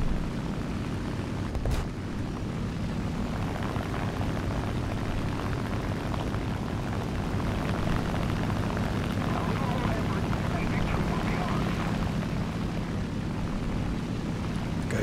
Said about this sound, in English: I hear a plane to my left.